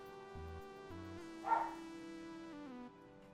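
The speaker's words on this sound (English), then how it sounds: "if you do hear dogs in the background, we are dog sitting" Dogs being looked after at home bark and yip faintly in the background, a brief louder yelp near the middle, over steady tonal music from a card game.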